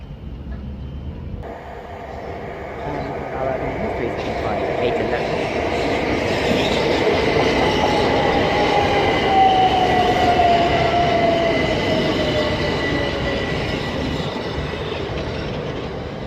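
Southeastern passenger train passing through Sittingbourne station on the Chatham Main Line, a loud sustained rumble of wheels and carriages that swells and holds, with a brief high wheel squeal partway through, heard alone without talk.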